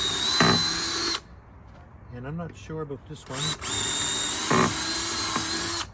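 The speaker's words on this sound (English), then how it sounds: "So I'm going to drill a hole through" A power drill whines steadily as it bores a bolt hole through trailer E track, running loud and close, stopping briefly while someone speaks, then drilling again.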